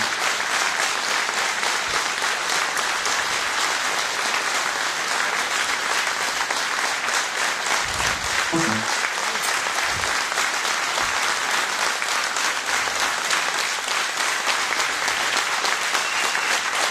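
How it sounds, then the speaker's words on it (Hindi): Loud, continuous audience applause fills the room at an insurance business talk, many hands clapping steadily for about seventeen seconds with a few low thumps and a brief voice-like sound partway through. "एक जोरदार ताली आप लोगों के लिए"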